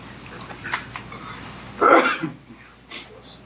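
A single sharp sneeze bursts out close by in a quiet township meeting room, followed by a few faint rustles and small noises.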